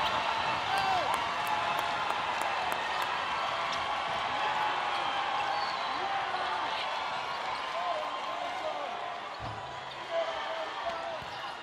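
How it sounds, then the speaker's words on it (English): An arena crowd roars and cheers loudly at a women's college basketball game, South Carolina against Baylor. The noise holds for the full stretch with scattered sneaker squeaks and a commentator talking over it. "the crowd goes crazy here"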